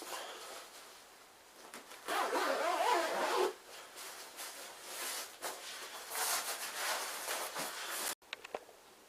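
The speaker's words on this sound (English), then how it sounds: "Put the sleeping bag in, and then zip your jacket up." A jacket zip is worked around a Gelert X-treme Lite 1000 sleeping bag stuffed inside it, with long rasping zipper runs and rustling nylon fabric, close and loud, ending in a few soft taps.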